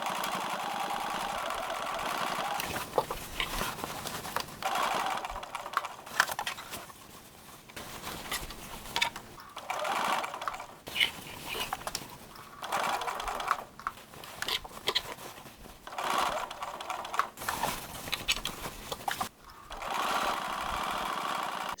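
A sewing machine stitches the body of a bucket tote bag in long, steady whirring runs, loud and close, broken by short pauses.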